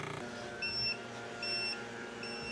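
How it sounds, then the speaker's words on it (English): A Wevac CV12 Pro vacuum sealer gives three short, high electronic beeps evenly spaced over a couple of seconds, faint and close, over a low steady hum. "3 beeps."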